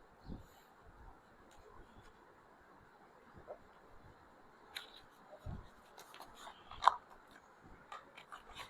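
Tarot cards are shuffled by hand, producing soft, faint riffling and scraping with a few sharper flicks and taps, quiet and close, with no talking.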